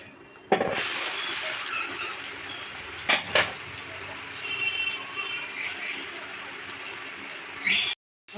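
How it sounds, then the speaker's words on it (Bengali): Grated onion and garlic paste with slit green chillies frying slowly in oil over low heat, a steady soft sizzle with a couple of brief clinks of a utensil partway through. "এবার আমি আস্তে আস্তে কম আঁচে পেঁয়াজ রসুনটা সুন্দর করে ভেজে নেব।"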